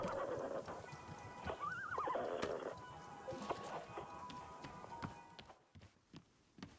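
Horse whinnying and neighing from a radio in the video game Wanderstop, a rising-falling neigh near the two-second mark amid clattering game noises and scattered clicks, fairly close and clear, with no talking.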